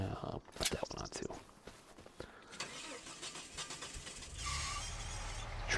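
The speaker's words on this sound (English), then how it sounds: "Truck sounds terrible." Truck engine in the video game Farming Simulator 25, starting with a few sharp clicks and bursts, then running as a steady mid-pitched drone that swells louder near the end.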